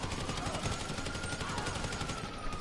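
Rapid video game gunfire during a heist mission, a dense, steady rattle of shots that fills the whole moment at a fairly loud level with no talking.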